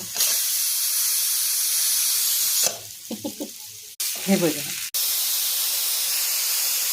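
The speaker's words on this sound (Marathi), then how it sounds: "कुकर आहे मध्ये शिट्टी मारत आहे" A kitchen pressure cooker lets out steam through its whistle as a loud, steady hiss, briefly interrupted while someone speaks, then resuming at full strength.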